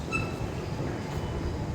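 A train rumbles at Zwolle railway station in the Netherlands, a steady heavy roll with faint high wheel squeal, heard close by in a station hall.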